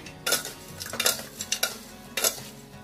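Roasted poha chivda is stirred in a pan with a metal spoon, four or five scraping, rattling strokes with clinks against the pan, close and moderately loud.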